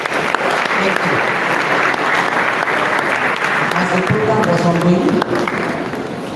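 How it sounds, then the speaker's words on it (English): A crowd at an agricultural capacity-building program gives a round of applause, a dense, steady clapping that holds throughout while someone speaks faintly over it. "A round of applause for the ladies."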